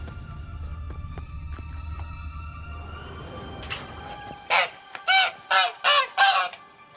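A caged hen in the game The Witcher 3 gives five loud, evenly spaced honking squawks near the end, after a quieter stretch of background ambience.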